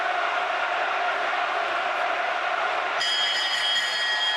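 A large boxing crowd roars steadily for Michael Watson in his 1991 fight with Chris Eubank, a dense, sustained wash of cheering, with a bell-like ringing tone joining near the end.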